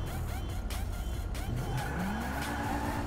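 Car in the GTA 5 video game pulling in to park, with a rising tire squeal and skid over a steady engine rumble, loud and close, no talk.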